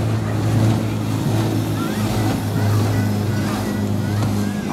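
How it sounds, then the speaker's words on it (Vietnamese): Jet skis parade on a river at an eco-tourism festival in Phong Dien, Can Tho, their engines a steady droning hum close by, with water wash and a faint voice underneath. "Giờ mình tạm dừng lại để cho mấy cái chiếc mô tô nước tiếp tục diễu hành"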